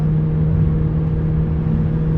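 A Ford Kuga 1.5 EcoBoost running on LPG with a Prins VSI-2 conversion holds a steady high-rpm drone around 5000 rpm, close and loud, with a constant tonal hum and no talk.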